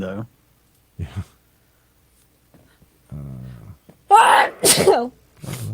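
A single loud sneeze bursts out near the microphone in a bin store, with brief casual talk before and after it.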